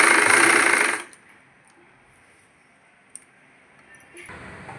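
A sewing machine stitching a patiala pant runs in a steady whirring burst for about a second, then stops, leaving quiet room noise with a single faint tick before a soft hum returns.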